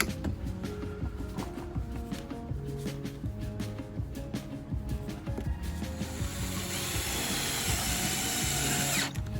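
Power drill driving screws into a friction door hinge on an RV, with short whirring bursts and ratcheting clicks, quieter pauses between runs and a steadier, louder grinding spell near the end.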